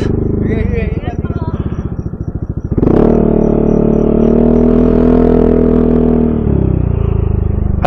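A motorcycle engine at night on the Marilaque mountain road, idling low, then revving up loudly and holding a steady rumbling drone close by before easing off, with people talking.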